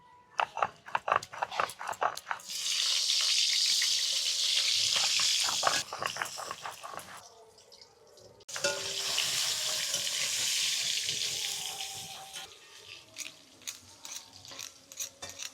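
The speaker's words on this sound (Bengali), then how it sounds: "নুন হলুদ মাখানো বেগুনটা ভেজে নেব।" Eggplant pieces sizzling loudly in hot oil in two long bursts, with sharp clattering taps of a spatula against the pan between them.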